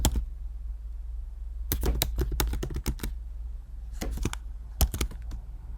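Quick bursts of keystrokes on a computer keyboard entering a sudo command, clustered clicks separated by short pauses, close and clear with no talking.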